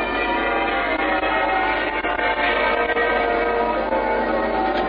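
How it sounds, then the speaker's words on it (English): Muffled church bells peal steadily through the whole stretch at Winston Churchill's state funeral in London, January 1965, a continuous dense ringing carried over rooftops with no speech. "Peal of muffled bells rings out over the rooftops."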